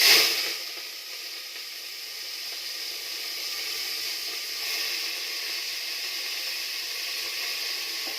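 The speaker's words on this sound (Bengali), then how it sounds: "তেল চাপিয়েছি, তারপরে তরকারিগুলো দিয়ে দিচ্ছি" Vegetables, including aubergine and leafy greens, crackle and sizzle in hot oil in a pan, with a loud initial burst easing into a steady, close hiss that holds for the whole stretch, with no talking.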